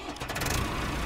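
A tractor engine in Ranch Simulator rumbles steadily at close range, a low, dense mechanical drone lasting about a second without pauses.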